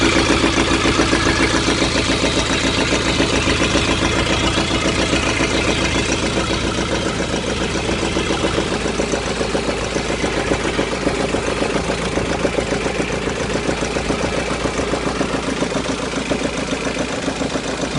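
A 2003 Kia Carens engine runs steadily after a starter motor repair, with a continuous, even idle and no voices.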